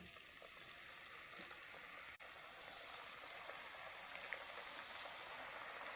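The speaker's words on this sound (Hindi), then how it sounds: "अब मैंने इसको फ्राई करना है" Chicken skin pakoras frying in oil: a faint, steady hiss and crackle of bubbling oil, continuous and close with no talk over it.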